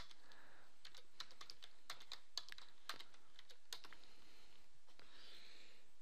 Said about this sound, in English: Now in your web browser, type in the default gateway